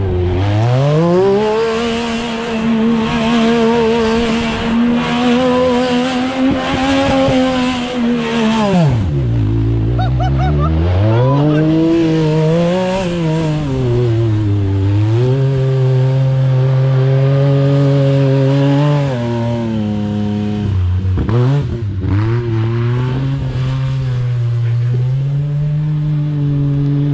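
Yamaha YXZ 1000 side-by-side drifting in snow, its engine revving hard and loud throughout with long sustained high-rev pulls, dips as the throttle lifts and surges back, close by.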